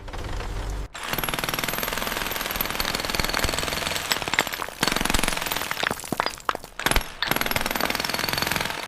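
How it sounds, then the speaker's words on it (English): Loud, continuous heavy pounding of a drill grinding through Manhattan bedrock, with brief pauses and sharp rattling bursts throughout. "The drill is fighting through 30 feet of it."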